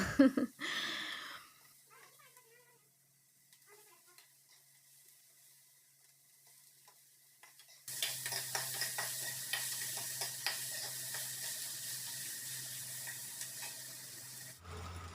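Onions frying in a pan: a steady broadband sizzle and hiss that starts suddenly partway through, fairly loud and close, with faint stirring, after a quieter stretch of light kitchen sounds.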